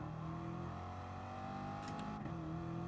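Race car engine droning steadily through a lap in Gran Turismo Sport, a constant loud tone with slight pitch shifts and a brief gear change near the end.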